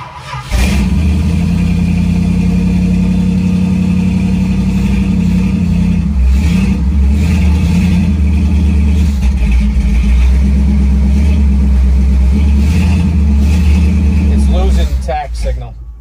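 A big block Mopar V8 fitted with Holley Sniper EFI runs loud and close after firing up, its idle surging up and down in a steady uneven drone, with talking over it.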